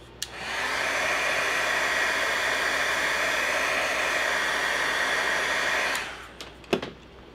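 A hair dryer blows steadily for about six seconds to dry wet watercolor paint on a slimline holiday card, loud and continuous, then clicks off with a few small handling knocks.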